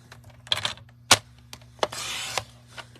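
A paper trimmer slices strips of paper in a few sharp, crisp cuts, one louder snap standing out, and a longer rasping slide of the blade between quieter clicks.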